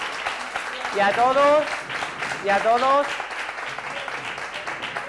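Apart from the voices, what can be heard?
audience applause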